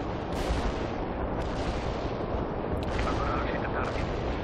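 Artillery fire in the World in Conflict strategy game: a dense, loud, continuous barrage of booming shell impacts and crackling gunfire with no pauses throughout.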